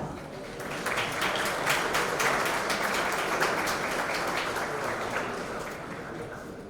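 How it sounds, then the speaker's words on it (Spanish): Audience at an economics conference on biosecurity applauding to welcome the next speaker, a sustained wash of many hands clapping at moderate distance that swells and then slowly tapers. "recibamos con un fuerte aplauso a nuestro siguiente expositor, el PhD y economista Paul Vera"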